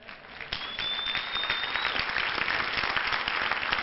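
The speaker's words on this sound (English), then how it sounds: "If I was you, I'd clap bigger on that." Audience applause at a sermon by preacher TL Osborn, a dense steady wash of clapping that swells after a moment and holds loud throughout, with no speech over it.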